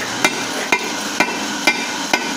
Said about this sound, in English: Just with a hammer.